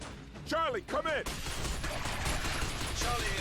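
Gunfire in the video game Binary Domain, a burst of rapid shots with sweeping swooshes before it and a dense, noisy stretch of continuous fire after, loud and close.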